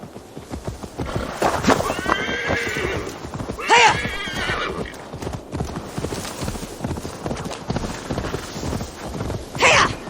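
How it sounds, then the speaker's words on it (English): A horse in Assassin's Creed Valhalla whinnies loudly twice amid steady clip-clopping hooves and busy background activity, with a brief bright neigh near the end. "Now to deliver Magni his horse."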